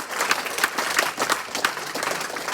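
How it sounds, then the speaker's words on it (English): Running club members gathered for a club meeting give a round of applause, a lively crowd clapping near and loud with uneven bursts across the whole stretch. "a round of applause for everybody involved"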